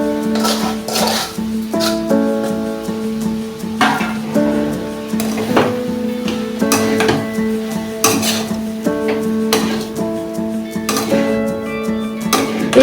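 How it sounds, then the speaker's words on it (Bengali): Rice flour and semolina get stirred into melted sugar syrup in a pan, with repeated scraping and clinking of a spoon against the metal in an uneven rhythm, faint sizzling underneath. "এইভাবে কন্টিনিউ নাড়তে থাকতে হবে।"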